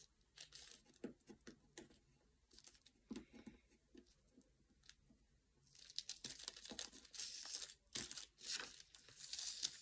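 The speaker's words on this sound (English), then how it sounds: "And then I'm just going to take off my tape that's holding down my paper." Masking tape is peeled away from paper in a series of close, crackly tearing and crinkling bursts, sparse at first and then denser and louder toward the end.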